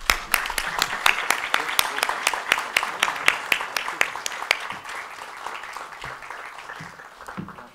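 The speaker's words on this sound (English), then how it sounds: "Thank you, readers, for your hearty participation and thunderous applause." Audience at a literary festival book event clapping in a burst of sharp, distinct claps that thin out toward the end, with faint talk underneath.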